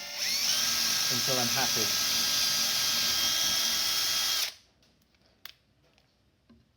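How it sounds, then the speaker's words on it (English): A power drill spins up and runs at a high, steady whine while it drives into the material, then cuts off abruptly after about four and a half seconds, with a brief voice during the run. "you start the drill until it bites into the material"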